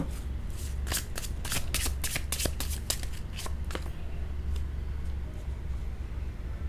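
A deck of tarot cards is riffled and shuffled close up, a rapid run of crisp flapping snaps for about four seconds that then fades into soft hiss and quiet handling.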